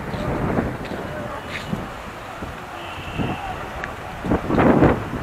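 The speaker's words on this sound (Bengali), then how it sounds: "সমুদ্রের হাওয়াটা দারুণ লাগছে" Steady sea breeze at Old Digha beach rushes and buffets the microphone, with gusts swelling toward the end and faint voices in the background.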